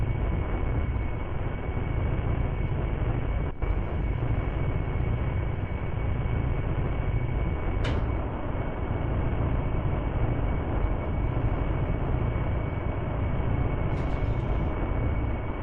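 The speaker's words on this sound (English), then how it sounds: "these are ramjet engines" Ramjet aircraft engines in a video game roar as a loud, steady broadband drone that holds unbroken throughout, with a couple of brief sharp clicks along the way.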